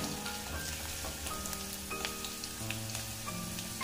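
Potatoes frying in oil in a pan for a Bengali sukto, a steady close crackling sizzle with scattered pops and faint stirring, no voices.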